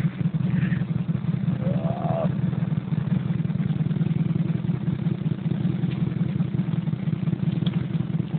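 A Can-Am quad engine runs steadily with a low, throbbing idle in a muddy spot, continuous and fairly close, with a brief faint voice over it.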